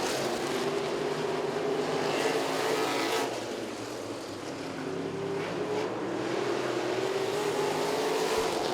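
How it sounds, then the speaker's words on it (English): Modified race car engines roar continuously as the cars race past at a distance at Southside Speedway, the pitch swelling and fading as they go by. "There's 2 cars battling for the 4th position as they go down the backstretch."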